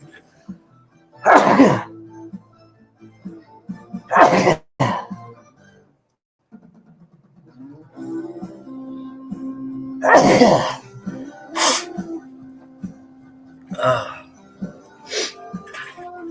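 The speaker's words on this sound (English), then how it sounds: "I got to sneeze here." Several loud, sharp sneezes burst out at intervals, close by, with someone talking quietly in between.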